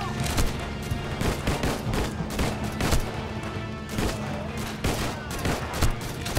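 Rapid gunfire in PUBG, dense bursts of shots and booms with several shooters firing close by, continuous and loud throughout, with some voices faintly underneath.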